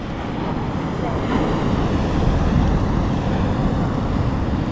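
Reef surf breaks near a boat off Mo'orea, a steady loud roar of crashing water mixed with wind buffeting the microphone.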